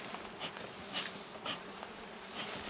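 Honeybees at an open hive being tended with a smoker, a steady, close buzzing swarm with brief louder passes of individual bees flying near, no voices.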